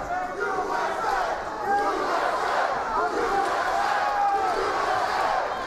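A big fight-night crowd in Atlantic City chants USA at a PFL mixed martial arts bout, a loud continuous roar of voices with rising shouts filling the arena.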